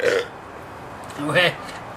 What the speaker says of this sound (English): We're burping and slurring, and we've done a few.